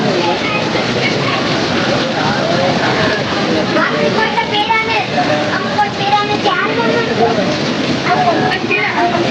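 Rain patters steadily during an outdoor community meal, a broad wash of noise mixed with the murmur of many people talking nearby.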